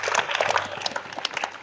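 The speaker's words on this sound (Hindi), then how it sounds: "इसके लिए ताली बजा दो" Children at a government school in Bihar clap together in a brief, scattered burst of applause, quick overlapping hand claps in a classroom, fairly close.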